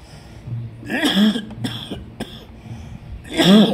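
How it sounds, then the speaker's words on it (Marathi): Two bursts of coughing about two seconds apart, the second louder, with a low hum underneath and no talking. "खोकला येतोय मला."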